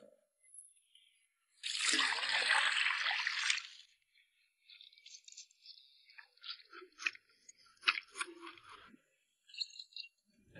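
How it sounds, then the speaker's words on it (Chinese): Scraped pork skin washed by hand in hot water: a loud splash and slosh, then a scattered run of softer squishing, rubbing and trickling sounds close by. "把剔好的猪皮用热水洗一下。"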